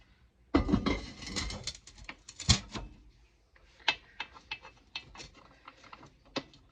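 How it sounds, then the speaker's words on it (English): Metal lid set onto a pressure canner packed with garlic jars: a loud clatter and scrape of metal, then a string of sharp clicks and taps as it is seated and locked, close by with no talk. "All right, gonna put the lid on."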